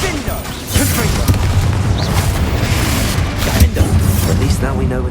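Booming Confringo spell explosions in Hogwarts Legacy, loud and sustained, with repeated blasts and a constant roar throughout.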